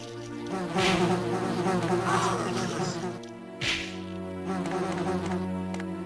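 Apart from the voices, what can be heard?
wasps buzzing in video game Resident Evil Deadly Silence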